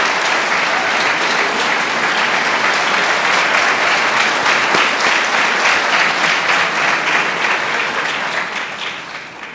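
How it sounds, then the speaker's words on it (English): A college audience applauds a long-serving professor at a State of the College address. Steady, dense clapping from a large crowd holds for about nine seconds and thins slightly at the end. "So I think we should offer Professor Smith a round of applause."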